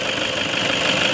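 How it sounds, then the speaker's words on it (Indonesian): A 2009 Toyota Innova diesel with automatic transmission idles with the hood open, giving a brief, steady, even engine drone heard up close with no voices. "untuk suara mesinnya seperti ini."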